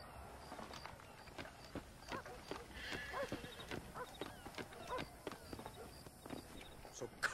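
Horses in the Red Dead Redemption video game clip-clop in a steady rhythm with a brief whinny, moderately close, while speech carries on over the hoofbeats.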